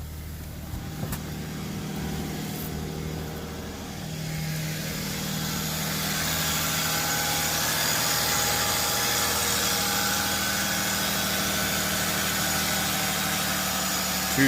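A 2001 Lexus GS300 with a 2JZ-GE engine idles steadily after a tune-up, a smooth, even hum with a low constant drone that grows slightly louder partway through, close by and without voices.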